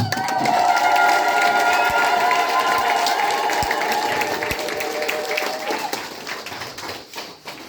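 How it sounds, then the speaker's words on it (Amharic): A church congregation claps together in loud, dense applause during a service, holding strong before thinning and fading out toward the end, with some voices mixed in. "አጨብጭቡ ለጌታ"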